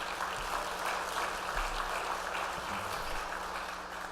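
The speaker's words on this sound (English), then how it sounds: "let's give them a round of applause" An industry conference audience applauds a reception sponsor, a thick, even wash of many hands clapping at steady volume for a few seconds, filling the room without any voices over it.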